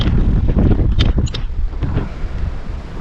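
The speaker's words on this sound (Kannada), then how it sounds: "ತುಂಬ ಅಂದರೆ ತುಂಬ ಗಾಳಿ ಬೀಸ್ತಾ ಇದೆ." Strong sea wind at the seaside Bekal Fort buffets the microphone with loud, rumbling gusts and a few sharper bursts, easing slightly toward the end.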